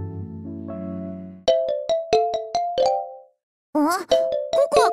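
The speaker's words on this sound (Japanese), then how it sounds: "あ、ココアからの着信なのだ。" A phone ringtone for an incoming call in the game D4DJ Groovy Mix plays as a bright electronic chime melody, with a sustained chord followed by a run of crisp repeated tones, a short pause, then a warbling sequence.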